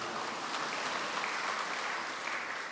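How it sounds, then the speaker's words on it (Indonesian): Steady applause from a church congregation during a service, a soft continuous wash of many clapping hands at a distance, even in level throughout with no voices. "Ya mau tepuk tangan silakan, jangan ragu."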